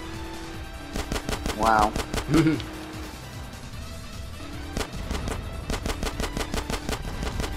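Rapid bursts of automatic gunfire in GTA: San Andreas, loud and close, firing in repeated volleys with brief pauses, while a voice speaks briefly over the shooting.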